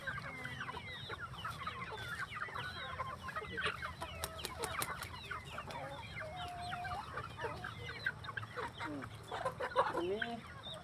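Free-range village chickens cluck busily while being fed, overlapping calls from many birds nearby in a constant chatter, with the odd crow and some low background noise.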